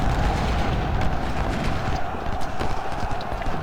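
Distant artillery and musket fire rumble and crackle steadily across a Civil War battlefield at Malvern Hill in Ultimate General: Civil War, a dense, continuous din without clearly separated blasts.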